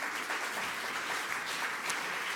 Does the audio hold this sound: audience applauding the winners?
yes